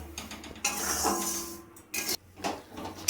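A spoon stirs semolina roasting in a kadai, giving uneven bursts of metallic scraping and clinking with brief pauses between strokes and no talking.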